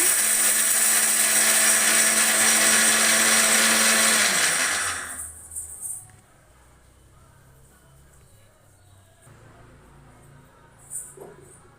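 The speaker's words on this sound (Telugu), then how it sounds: "ఒక రెండు పచ్చిమిర్చిని అయితే వేసుకొనేసి మిక్సీ పట్టేసుకోవాలన్నమాట" An electric mixer grinder runs dry on peanuts and green chillies, a loud steady whirring drone for about four seconds before winding down, followed by quiet room sound and a faint clunk.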